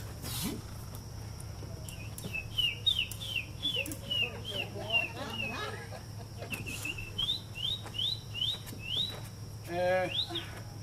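Birdsong plays as a morning wake-up sound effect in a live improv cabaret, with repeated chirps and tweets in quick rising phrases, fairly close, over a low steady hum.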